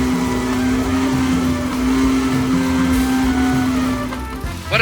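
A 1964 Ferrari 158 racing car and an MV Agusta Grand Prix motorcycle running together at a Goodwood event, a loud steady engine drone with a strong held tone, swelling briefly at the end.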